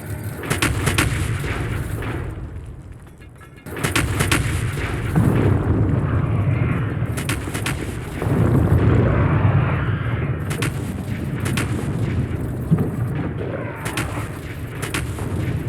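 Artillery fire in the game Factorio, a run of heavy booming shots in irregular bursts with rumbling blasts rolling between them, loud and close.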